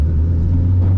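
A 700hp turbocharged Toyota Supra engine drones loudly and close up, holding a deep steady rumble around 3,500 RPM as it comes into boost. The burst is brief.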